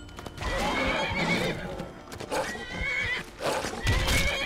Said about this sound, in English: Wait for my horse!